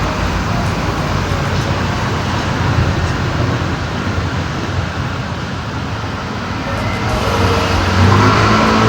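A car goes by on a road, a broad steady roar of traffic that swells slightly toward the end, with no voices over it.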